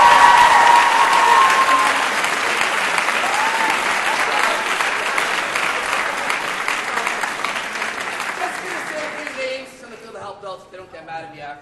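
After a school play of Hercules, the audience claps and cheers in a long, loud, sustained round that slowly thins out and fades, with some voices mixed in.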